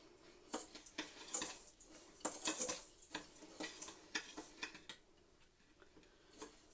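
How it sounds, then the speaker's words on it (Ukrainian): A spoon scrapes and clinks against a pot while sugar and agar are stirred for a currant marshmallow syrup, a series of close, quiet, irregular metallic taps and scrapes. "Готуємо сироп, до цукру додаємо агар, перемішуємо."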